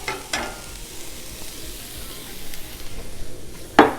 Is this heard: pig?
no